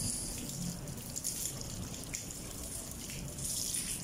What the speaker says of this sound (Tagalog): Marami siyang dumi na nasala kaya harang na doon sa kanyang filter kaya tumutulo.